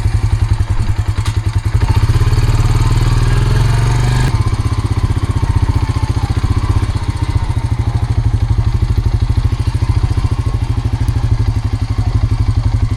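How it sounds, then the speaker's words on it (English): A 2004 Honda Rancher ATV rides along, its engine note steady and loud with a throbbing low-end pulse throughout, a brief rattling clatter near the start, and no talking. "Yes, this is a 2004 Honda Rancher"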